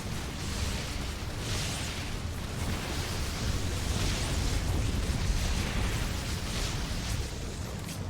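A Zerg spire being destroyed in StarCraft II: Heart of the Swarm, heard as a steady rumbling roar of explosions and bursts at moderate loudness with no voices.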